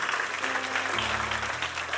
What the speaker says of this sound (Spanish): Dale un aplauso bien hermoso, bien lindo al Señor